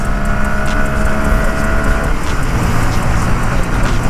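A 2022 Honda Grom motorcycle fitted with a 14-tooth sprocket roars steadily close-up at high revs, its engine note holding a rising whine before shifting, with a constant loud buzz and wind throughout.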